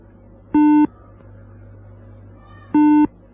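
Two identical short electronic beeps from the NVDA screen reader's Tesseract OCR add-on, signalling that a scanned document is being processed, sound about two seconds apart over a quiet low hum.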